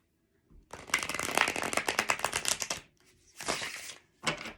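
Tarot cards are riffled in a long rapid fluttering burst, followed by two shorter shuffles with brief pauses between, close and crisp.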